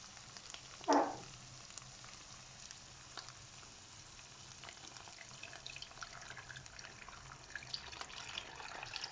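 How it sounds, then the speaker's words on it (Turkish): Water is poured into a pot of toasted rice for pilaf, a brief bright splash and gush near the start, then a quiet simmer-like hiss for the remaining seconds with no talking. "Şimdi suyunu da ilave edelim."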